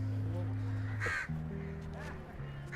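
Crow-like birds caw twice amid a fishing village strewn with dried fish and plastic litter, the harsh calls standing out over a steady low drone and nearby voices.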